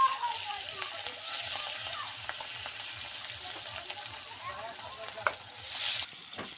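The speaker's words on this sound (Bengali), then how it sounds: "তেলটা গরম হয়ে গেছে, এই যে এবার মাছ ভেজে নেব। একটা একটা করে মাছ দিয়ে দিচ্ছি।" Rita fish pieces frying in hot oil, a continuous close sizzle with soft bubbling crackle and a brief louder spit near the end, alone without talk.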